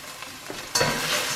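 Curry paste and turmeric sizzle in a hot pan as they are stirred, a close, steady frying hiss that swells abruptly partway through.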